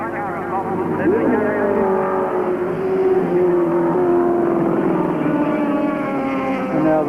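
Touring cars racing at Adelaide in the 1983 Australian Touring Car Championship, Peter Brock against Allan Moffat, engines droning steadily with rising and falling pitch as they pass, under continuous commentary.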